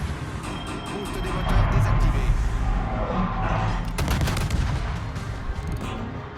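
Guns fire at a warship in a naval combat game, making a loud, steady rumble of rapid shots and deep blasts that builds into a thick burst of cracks midway.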